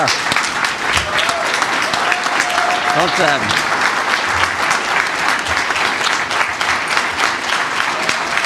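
An audience applauds loud and sustained for Jim Jordan at a political speech, dense unbroken clapping filling the hall, with a brief whistle-like tone cutting through midway.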